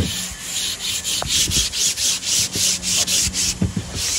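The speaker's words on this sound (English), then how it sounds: "Sand these edges real quick because" Hand sanding along the edges of stain-grade cypress or heart pine trim, a steady back-and-forth rasping rub in quick close strokes, alone with no voices.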